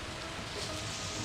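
Rain falling at sea aboard a racing sailboat in the Vendée Globe, a steady dense hiss of drops on the boat with a low rumble of wind and water underneath, continuous and fairly loud throughout.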